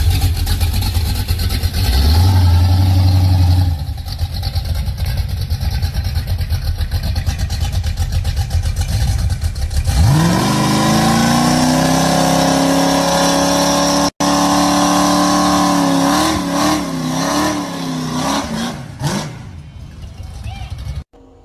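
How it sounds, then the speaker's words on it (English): A big block Chevy V8 running a little nitrous rumbles roughly at idle, then revs up sharply and holds a loud, high, sustained roar before easing off. A voice talks over it. "It's a big block Chevy, runs a little nitrous"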